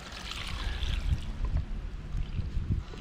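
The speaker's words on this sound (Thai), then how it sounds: "มาเทน้ำปูนใส เพื่อแช่มะม่วงของเรานะครับ" Limewater poured over mangoes in a container to soak them for crisp pickled fruit, a close, soft splashing and trickling of liquid lasting a few seconds without speech.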